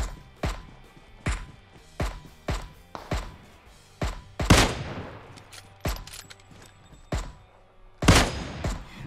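Rapid gunfire from a PUBG Mobile match, with repeated sharp shots at a steady rhythm punctuated by heavier bursts, loud and close, with no talk over them.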